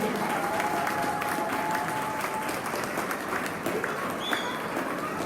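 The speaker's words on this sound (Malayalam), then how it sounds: "നന്നായിട്ട് കൈയടിക്കാം നമുക്ക്" An audience at a stage drama performance by a theatre group applauds, a dense sustained round of clapping that carries evenly throughout, with faint voices mixed underneath.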